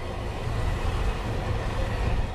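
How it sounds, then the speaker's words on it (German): A loaded tank freight train gathers speed on a downhill grade near Elsterwerda, a steady heavy rumble of wheels and wagons rolling continuously, close and loud throughout. "Jetzt wird der Zug schneller."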